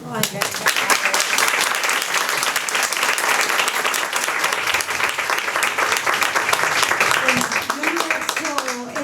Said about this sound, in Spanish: lo bonito sería empezar dándote un aplauso